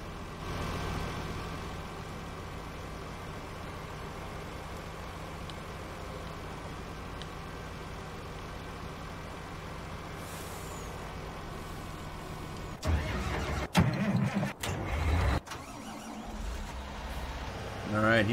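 A truck's engine runs steadily in Farming Simulator 19 as it heads off-road, a continuous mid-level drone with a few sharp clunks and bumps near the end, and nobody talks over it.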